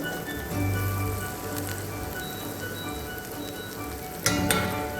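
Garlic sautéing in a pan gives a steady, even sizzle throughout, with a brief louder clatter of a utensil near the end.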